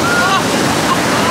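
Ocean waves wash up on a beach at Carihuela, a loud, continuous roar of surf with rushing water and gusty wind noise hitting the microphone.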